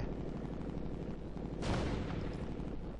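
Gunfire from the online shooter Ghost Recon Future Soldier, a steady wash of distant shots with a louder, denser burst of fire swelling around the middle and then settling back.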